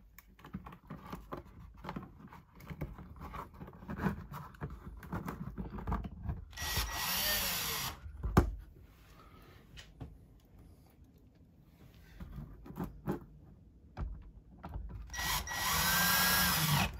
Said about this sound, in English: And screw it back up in place.